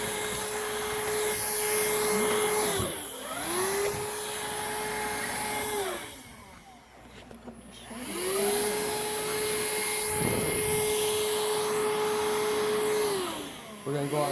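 A Hoover React cordless vacuum cleaner runs on carpet with a steady whining motor hum that dips and rises twice as it moves, briefly quieter in the middle, and no voices are heard.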